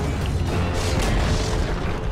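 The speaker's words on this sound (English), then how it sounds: "Dire's bottom tower has fallen." Tower destroyed in Dota 2: a deep booming crumble with a rumbling burst, heavy and sustained for a couple of seconds without any voices.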